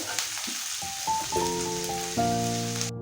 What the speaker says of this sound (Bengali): সব কিছু একসঙ্গে দিয়ে সবজিগুলো ভালো করে ভেজে নেবো